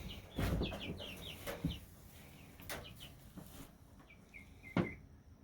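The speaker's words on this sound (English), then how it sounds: "Releasing of the chicks." Young chicks being released into their new home in a backyard homestead, giving faint high peeping chirps scattered through the clip alongside soft thuds and handling noises, with no talking.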